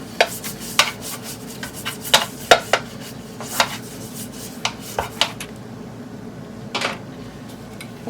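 Olive oil being spread over a metal baking tray for focaccia, close scraping and rubbing strokes with a series of sharp clinks and taps against the tray, alone and without speech.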